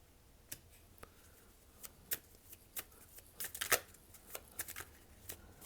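Tarot cards drawn one at a time from a deck, giving faint, sparse crisp snaps and flicks spread across the stretch with quiet gaps between them.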